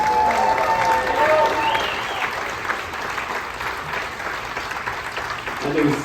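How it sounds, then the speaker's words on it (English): An audience aboard a luxury cruise ship applauds musicians in a steady, dense burst of clapping that fades slightly before swelling again, with a few voices mixed into the crowd noise. "So can we just give these gentlemen another round of applause?"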